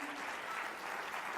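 A church congregation applauds steadily, a dense, even wash of many hands clapping in a large room with no break.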